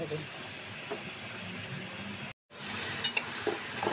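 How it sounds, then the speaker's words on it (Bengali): Masala spice paste sizzles and crackles as it is stir-fried in hot oil for a beef and sweet pumpkin curry, with a steady frying hiss, a brief dropout, then louder sharp spatters and scraping stirs near the end. "মশলাটা ভালো করে কষিয়ে নেব"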